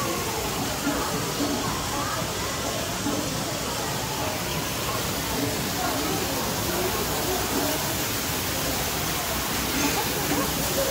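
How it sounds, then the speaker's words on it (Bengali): Waterfalls in the Amazonia World exhibit of an aquarium in Seoul pour in a constant broad rushing hiss, steady and close throughout, with faint talk beneath. "আর আশেপাশের ঝর্ণাগুলোর কলকল শব্দ"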